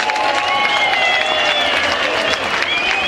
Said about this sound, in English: let's give these two warriors a big round of applause